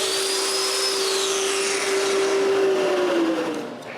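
A drill whines steadily at close range as it bores mortises into a walnut clock box, a sustained high motor tone that holds for several seconds and then spins down.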